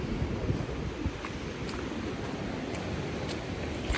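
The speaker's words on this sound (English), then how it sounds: "I don't even know if you can hear me too well because of the wind" Strong wind buffets the microphone at a lakeside campsite in the Lake District, a continuous low rumbling roar with no talk.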